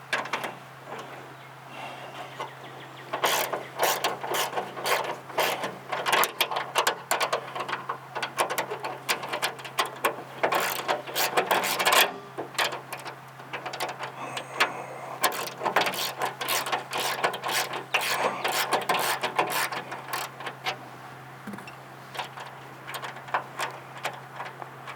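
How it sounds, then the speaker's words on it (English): A hand ratchet works a nut off the linkage bracket on a 2022 Jeep Gladiator Rubicon JT diesel. It gives long runs of rapid, close metallic clicking in repeated bursts, with a steady low hum underneath. "I'm going to remove the nut and the washer and the bolt and save that"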